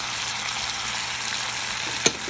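Fresh pineapple with its juices and diced mango hitting a hot pan with cinnamon and peppercorn, giving a steady, close, loud sizzle and one small clatter near the end.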